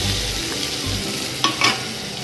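Onions frying in hot oil with cumin seeds, in oil already used to fry jackfruit for a curry, give a steady close sizzle with a couple of brief stirring scrapes and clatters.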